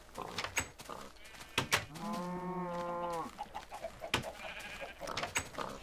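Cows in the Minecraft video game give a few short lowing moos and bleat-like calls in quick succession, one longer drawn-out call in the middle, with soft clicks and game noises around them.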